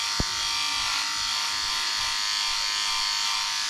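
An electric razor (men's 6-in-1 trimmer) buzzes steadily and close throughout, a continuous bright motor hum with a small click at the start and no talking.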